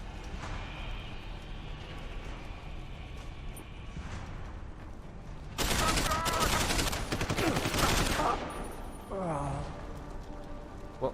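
Gunfire in the game Deus Ex: Human Revolution, a loud dense burst of rapid shots lasting a few seconds over a quieter game soundscape, with a voice talking.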